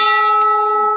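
A single struck temple bell at Kot Bhramari temple rings out loud and close, its clear metallic tone with steady overtones sustaining and slowly fading over about a second.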